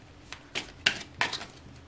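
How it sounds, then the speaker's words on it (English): A deck of stiff cards being shuffled by hand at a tarot-style reading table, three or four short riffling bursts close to the microphone with brief pauses between them and no talking. "These cards are hard to shuffle."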